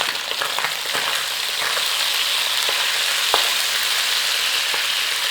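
Chicken and cabbage stir-frying in a pan for a sticky stir fry, a steady loud sizzle throughout with a few sharp crackles and spatula clicks, no voices.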